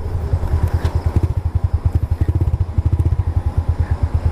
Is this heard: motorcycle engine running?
yes